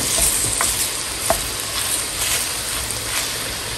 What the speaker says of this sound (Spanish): Y mira, le voy a agregar 100 pesos de carne molida de res.